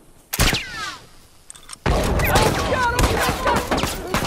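Rifle shots crack in a video game battle: one sharp shot, a short lull, then a dense volley of overlapping gunfire, with shouting voices mixed in.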